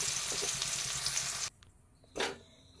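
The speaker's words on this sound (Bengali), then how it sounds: "এখানে আমার করলা ভাজা হয়ে গেছে, দেখুন লাল লাল করে এইভাবে ভেজে নিয়েছি।" Bitter gourd (karela) pieces fry in hot oil with a loud, dense sizzle that cuts off abruptly, then a short burst of sizzling returns briefly before fading.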